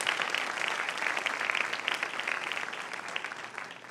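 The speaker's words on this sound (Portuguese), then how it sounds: "Uma salva de palmas para eles" A church congregation at a Quadrangular service breaks into applause, a sustained crackle of many clapping hands at moderate volume, steady throughout with slight swells.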